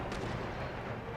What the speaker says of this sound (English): Are these cannons firing as well? With round shot, they should have quite the range